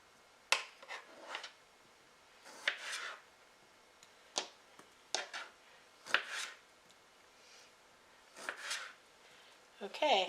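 A knife cuts through tomatoes and taps a cutting board, a series of about ten short, sharp slicing strokes spread irregularly across a quiet kitchen.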